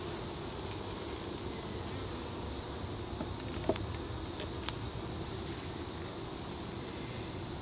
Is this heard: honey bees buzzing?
yes